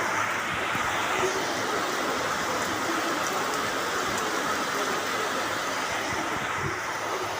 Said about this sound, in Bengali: বৃষ্টি শুরু হয়ে গেছে দেখো এতক্ষণ পরে বৃষ্টি হয়েছে আর বৃষ্টির আওয়াজটা দেখেছো